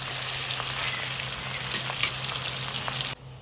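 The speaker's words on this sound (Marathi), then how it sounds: "तर आपल्याला हे पनीर थोडंसं शाडो फ्राय करून घ्यायचं." Paneer shallow-frying in a pan crackles with a continuous close sizzle and scattered pops over a low hum, then drops away abruptly near the end.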